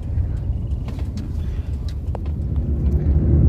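A car crosses the Selfie Chotpoti bridge in Sylhet, heard from inside as a steady low road rumble and engine drone that swells slightly toward the end, with no talk over it.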